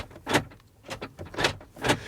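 The door mechanism of a Mercedes G 580 EQ makes four sharp, loud metallic clacks in quick succession, heard close up with no talking.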